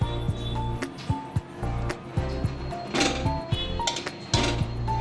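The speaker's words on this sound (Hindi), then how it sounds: "हम अच्छे से भून लेंगे।" Spinach and potatoes being stirred and roasted in a pan, with a spoon scraping and clinking against the metal in irregular knocks and rattles, moderately close, over a low steady hum.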